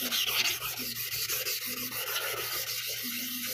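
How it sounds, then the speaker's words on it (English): Steady rubbing and scraping of 320 grit sandpaper across a sharpening stone, a continuous close gritty rasp with rhythmic back-and-forth strokes and no talking. "Let's see what the sandpaper will do."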